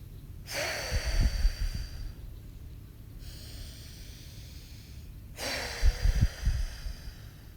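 Deep breathing during a guided breathing exercise: two long, forceful nasal inhales or exhales about five seconds apart, close and breathy, with quiet pauses between.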